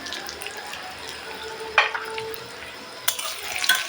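Freshwater fish with turmeric sizzles softly in a frying pan, broken by a couple of sharp clattering stirs partway through and near the end; no one speaks.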